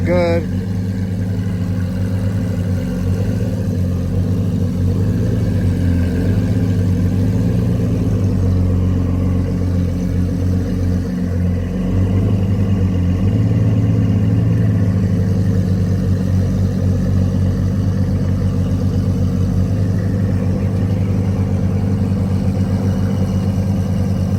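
A Lamborghini Aventador carbon series V12 holds a deep, steady idle, a loud droning rumble that runs without a break and rises slightly now and then. People talk over it, and the car sounds close.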